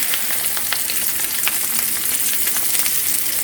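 Flounder deep-frying in oil that is too hot, a loud, steady, close sizzle with dense crackling pops and no talk.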